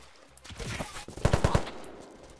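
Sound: gunfire from a gun in Unturned video game

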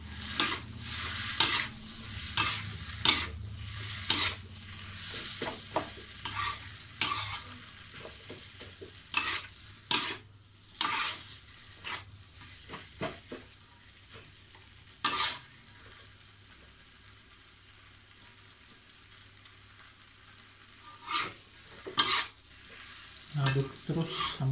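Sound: stirring kwetiau noodles frying in a pan

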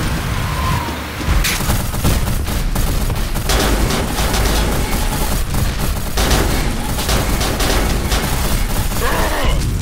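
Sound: machine gun fire in a video game

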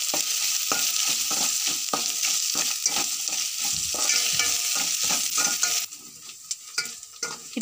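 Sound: stirring a spiced lentil mixture in a frying pan

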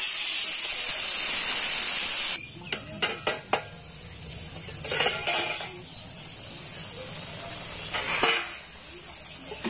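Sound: boiled bitter gourd frying in oil

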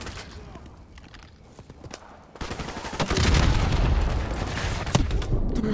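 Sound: gunfire in the video game Call of Duty Modern Warfare Remastered

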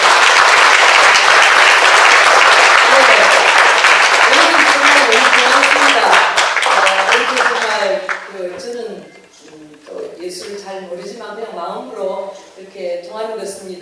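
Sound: audience applause

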